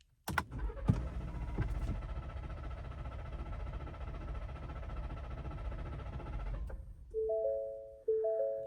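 Ford F150 Raptor engine cranking over without firing to prime oil, a steady whirring starter drone after a click, cutting off abruptly, followed by a few electronic chime tones.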